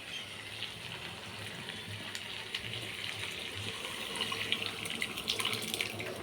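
Boiled dal with salt and turmeric is poured into a pot, a steady liquid gush and splash with faint clinks, close and moderately loud, and nobody speaking.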